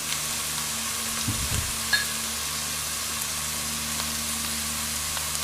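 Onions sizzle and fry steadily in a pan with added spices and seasoning for a Quorn curry, a continuous close hiss with one faint clink of a utensil.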